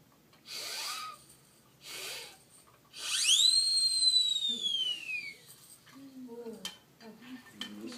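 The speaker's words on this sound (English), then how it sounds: "triple sirens that I've taped together" Three siren whistles taped together give two breathy puffs, then a shrill rising wail that sweeps up and slowly slides down and fades, heard close in a quiet room.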